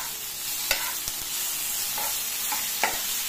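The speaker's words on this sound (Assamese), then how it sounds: "দি গোটেইখিনি ভালদৰে লৰাই দিছোঁ" Eggplant, potato and tomato fry together in a pan, a steady close sizzle broken by a few sharp scraping knocks of the stirring spoon.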